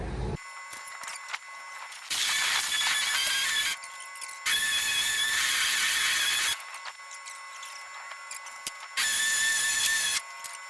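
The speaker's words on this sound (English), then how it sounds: "I got my electric ratchet in there. I'm gonna try to spin it over." A high-pitched electric ratchet whine runs in several bursts of a second or two each, starting and stopping against a quieter mechanical hum.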